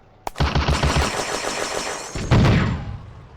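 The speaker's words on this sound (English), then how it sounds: "Baudin's FM-2429 machine gun returns fire" A French FM 24/29 light machine gun in a May 1940 combat video game fires a rapid burst of close, punchy shots, a brief gap, then another heavy crack and sustained rattling fire that trails off, with no speech.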